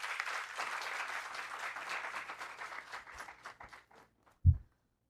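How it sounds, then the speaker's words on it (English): Audience applause for a chief guest at a science festival curtain raiser, a dense burst of clapping that thins out and fades over about four seconds, ending with a single low thump. "Ladies and gentlemen, a round of applause for our chief guest"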